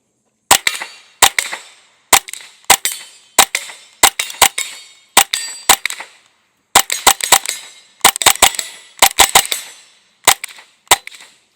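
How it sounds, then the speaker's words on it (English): A Smith & Wesson FPC 22 folding rifle fires .22LR rounds outdoors, with sharp, loud cracks in quick bursts of two to four shots separated by brief pauses, each with a short decaying tail. "Let's go ahead and put some rounds down range with the FPC 22."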